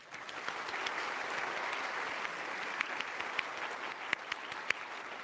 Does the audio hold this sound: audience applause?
yes